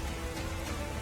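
Heavy monsoon downpour in Saurashtra, a steady, dense hiss of rain hitting surfaces that stays loud and unbroken throughout.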